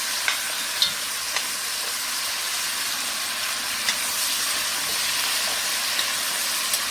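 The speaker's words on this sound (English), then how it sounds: "I'm just going to keep stirring this until the onions pretty much get a little translucent" Onions fry with beef stew ingredients in a pot on a stovetop, a steady hissing sizzle broken by a few sharp scrapes and taps of a stirring utensil, close and without talk.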